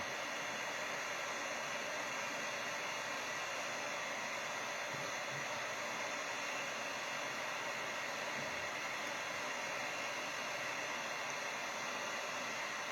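A heat gun blows with a steady, even hiss and whoosh while warming PETG water-cooling tubing so it can be bent, unbroken and fairly quiet throughout with no speech.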